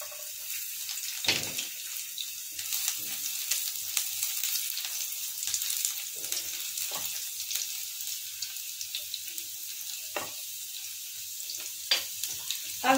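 Finely chopped garlic sizzling in hot oil in a pan while cooking chilli potatoes, a soft continuous hiss with occasional small pops and stirring noises, fairly quiet and without talking.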